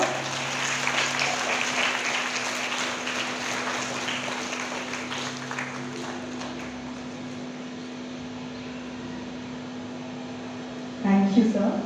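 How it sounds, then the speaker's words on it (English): An audience at a school teacher's farewell gives a sustained round of clapping that fills the first half and gradually fades into a low room hum, with a brief louder knock near the end. "A big round of applause."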